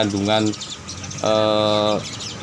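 A perkutut, or zebra dove, coos in two bursts of soft, rolling trilled notes, the second longer and steadier, near and moderately loud over a faint background.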